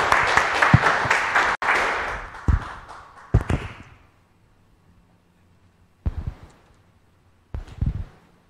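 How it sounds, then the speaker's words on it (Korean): A church congregation at a worship service applauds as a pastor is welcomed to the stage, a brief burst of clapping that fades within a few seconds, followed by quiet with a few scattered knocks and thumps. "큰 박수 부탁드리겠습니다"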